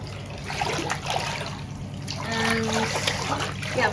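Bath filling from the tap with bubble bath added, a close steady trickling and splashing of running water, moderately loud, with no talk.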